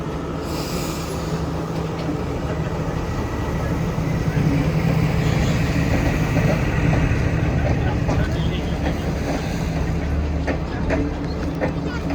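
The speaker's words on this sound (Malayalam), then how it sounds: "അങ്ങനെ നമ്മുടെ ട്രെയിൻ ഏകദേശം വരാറായി." A train in Sri Lanka approaches through hilly forest near Horton Plains, a continuous loud rumble with squealing wheels and clattering, heard close by amid outdoor ambience.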